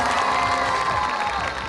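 Crowd at a Pakistan Super League cricket match cheering and whooping for Sarfaraz and the Quetta Gladiators after a winning six, a loud, dense roar of many voices held steady throughout.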